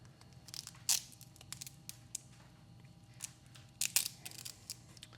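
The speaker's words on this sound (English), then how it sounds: "Now I'm going to do a little structural tape over the top." Structural tape pulled and pressed over the insulation on stacked dual 2S battery packs: two loud close tearing rips among smaller crinkles, snips and taps, with no talking.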